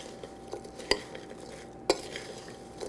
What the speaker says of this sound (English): We're going to get a big spoon and mix it up just so every nut is coated.